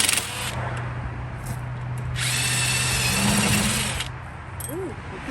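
A power tool rattles loose a bolt on the front bearing of a 2010 BMW 535i, with short loud drill-like bursts and whirring close up, plus a brief exclamation from a person.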